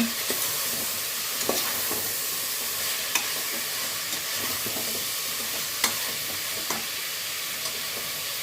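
Vegetables sizzle steadily in a hot pan while a utensil stirs and scrapes, with occasional sharp clicks against the pan.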